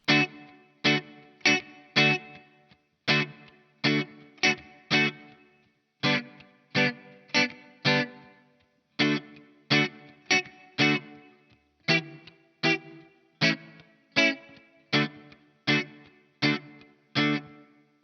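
A guitar plays the 12-bar A section of Elvis Presley's Don't Be Cruel as a backbeat rhythm part, with short, punchy strummed chords in an even, repeating pattern that stops briefly between phrases.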